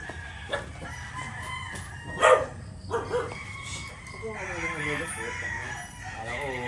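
Day-old chicks packed in boxes for transport peep in a steady, shrill chorus, with a few louder calls standing out over faint background noise.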